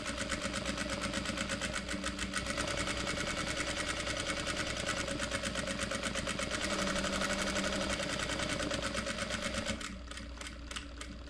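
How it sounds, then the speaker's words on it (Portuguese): Domestic sewing machine stitching a small fabric pouch, a steady, close, rapid mechanical whir running continuously for about ten seconds before easing off, with no talking. "Vou aumentar um pouquinho a velocidade da minha máquina, porque ela tá muito devagar."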